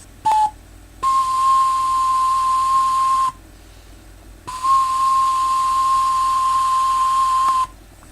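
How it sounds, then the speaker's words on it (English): Hand whistling at a whistling workshop in Mumbai, heard as a short chirp followed by two long, steady, pure tones held at one pitch with a breathy hiss behind them, loud and alone. "Hand whistling."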